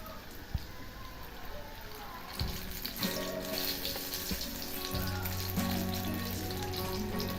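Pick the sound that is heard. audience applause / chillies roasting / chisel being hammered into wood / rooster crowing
chillies roasting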